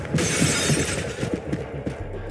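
Glass shatters and breaks in the Trepang2 game. The crash starts loud, then scattered shards rattle and tinkle for about two seconds over rumbling game noise.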